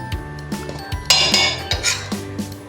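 Spoon clinking and scraping against a metal pan or bowl while desiccated coconut and other ingredients are mixed for sonth-gond barfi, a series of close, sharp taps and scrapes in an uneven rhythm.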